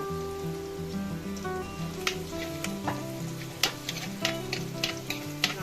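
Onions and green chillies fry in a pan for a village-style fish curry, a steady close sizzle broken by occasional sharp spits and stirring clicks, with faint music underneath and no talking.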